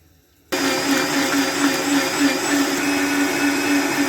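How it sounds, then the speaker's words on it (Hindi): An electric kitchen blender switches on abruptly and runs steadily at a loud, even whir, grinding ginger, garlic and tomato into a paste, with no talking over it. "ब्लेंडर में डाल कर इनका पेस्ट बना लूँगी"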